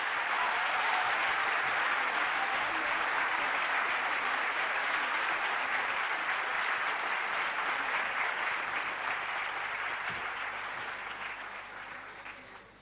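Sustained applause from a large audience at a college festival, dense steady clapping that holds strong and then fades out toward the end.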